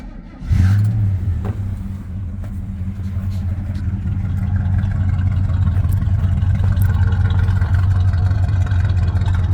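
A Chevrolet C10 pickup's engine, paired with a TH350 transmission and running without smoke, catches after a brief crank and settles into a steady, rumbling idle, loud and near, holding evenly throughout.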